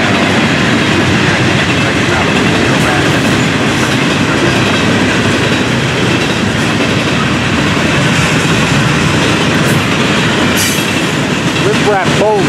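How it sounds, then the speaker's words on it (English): An FEC intermodal freight train with deep-well cars rolls steadily past at close range, a loud continuous rumble of wheels and clattering railcars filling the whole stretch, with faint wheel squeal near the end. "This the Fort Pierce train is intermodal here on the head end, including the deep wells."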